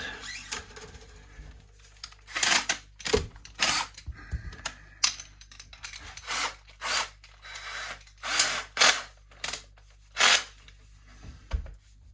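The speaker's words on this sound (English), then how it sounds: "Let's get the string winder on the DeWalt." A DeWalt cordless drill fitted with a string winder spins the non-locking tuners on a Squier MIK Stratocaster, giving repeated short whirring bursts with brief pauses between them, close by and moderately loud with no talking.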